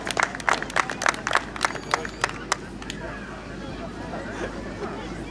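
Applause for debutant Robert Czeszejko at a Children's Day show in Kawęczyn: a crowd claps in a burst of sharp, dense claps for about three seconds, then thins into a murmur of crowd chatter, with no voice over it.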